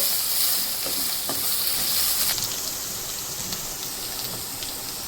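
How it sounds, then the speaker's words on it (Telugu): White and black chickpeas and corn frying in a pan, a steady bright sizzle throughout with a few scattered clicks and stirring scrapes, no one talking. "కొమ్ముజనగలు వైట్ చైనా, బ్లాక్ చైనా, పైనుండి వచ్చేసి కార్న్, ఇవన్నీ మనం వేసి బాగా వేగించాలి"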